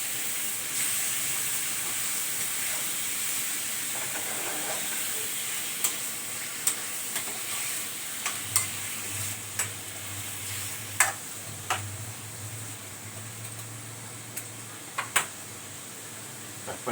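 Chicken gizzards for adobo sizzling steadily in a pan, a constant hiss with a few sharp clicks and taps scattered through the later part, no talking.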